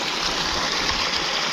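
On a farm, a tubewell pumps water in a steady, close gushing rush that flows evenly and without pause for a brief moment.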